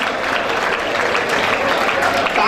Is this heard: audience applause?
yes